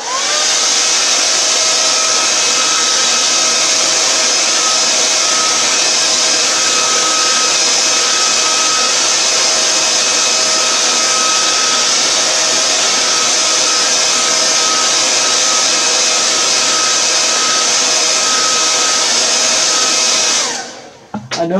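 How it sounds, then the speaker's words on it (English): A hair dryer runs continuously at full power to dry paint, a loud steady whooshing roar with a constant motor whine lasting about twenty seconds before it is switched off with a brief clatter. "I'm going to be using the blow dryer for just a quick second."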